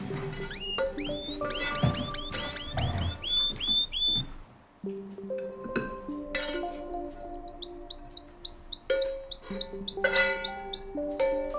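Pet bird chirping and whistling indoors, a close, steady stream of bright repeated tweets and trills with short pauses, no voices over it.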